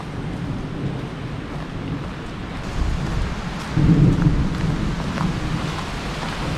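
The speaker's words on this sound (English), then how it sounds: "Well, the rain has begun." Rain falling with low rolling thunder during a hike in the Lake Harney Wilderness Area, a steady patter under a deep rumble that swells near the middle, no voices.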